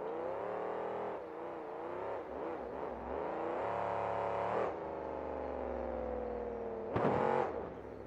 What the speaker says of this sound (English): Nice little full throttle pass down the straight.